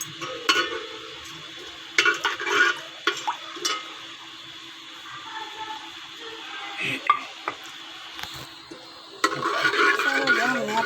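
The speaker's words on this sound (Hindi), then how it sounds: "सबसे पहले हम ये साबुत गरम मसाला इसमें डालेंगे।" Whole garam masala spices go into hot oil in a pan while cooking chicken pulao, giving scattered clicks and small crackles, then a louder sizzle near the end, with faint voice in the background.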